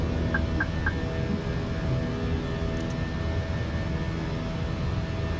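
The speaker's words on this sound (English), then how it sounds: "Gears coming up, and there's the takeoff." An Airbus A320 takes off in a flight simulator game, a steady loud engine roar with a low rumbling drone filling the whole clip, a few faint high beeps early on, no talk.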